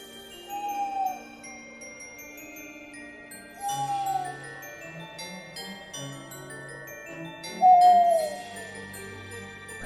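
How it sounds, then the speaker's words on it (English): An owl hoots three times, spaced a few seconds apart, in the snowy night of the horror game Frosty Nights, over a soft background of tinkling chimes and low tones. "And then there's an owl."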